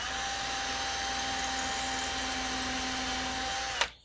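A drill runs steadily at full speed boring into thin plywood held in a jig, a continuous whine that stops abruptly near the end with a brief knock.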